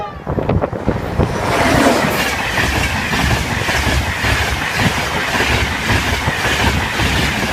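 A train rolls past a level crossing on a line toward Leeds via Doncaster and Wakefield Westgate, loud and close, with steady rumble and rhythmic clickety-clack of wheels over rail joints throughout.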